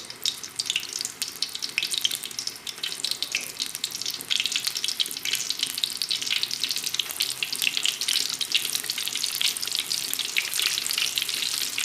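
Aubergine and minced meat balls fry in hot oil in a pan, giving a steady, loud, close sizzle with dense crackling that runs unbroken throughout and has no talk over it.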